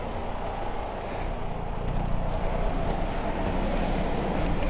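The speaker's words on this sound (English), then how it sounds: "The fan's kicked on." A Pontiac Solstice's radiator cooling fan runs as a steady, even whooshing hum with a low rumble beneath it, holding at a constant level throughout with no one talking.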